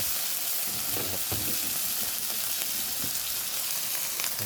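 Fish sauce going into a hot pan while rice-field rat is stir-fried, giving a continuous loud sizzle and hiss with scraping stir sounds mixed in, close by and without talking.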